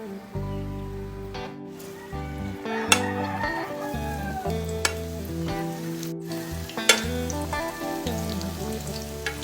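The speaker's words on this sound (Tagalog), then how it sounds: "At ito na, naprito na natin lahat." Banana pieces deep-frying in hot oil in a frying pan until golden brown, giving a continuous, close, crackling sizzle with occasional sharper pops and no talking.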